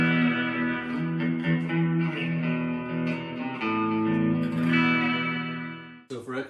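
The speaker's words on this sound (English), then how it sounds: "your classic surf rock sound is going to be using a Fender type guitar, single coil pickups, and then Fender style amp, usually clean, pretty clean, with a lot of reverb" Clean Fender-style guitar with single-coil pickups through a Fender-type amp drenched in reverb, playing sustained surf rock chords and notes loudly and continuously, with a brief break near the end.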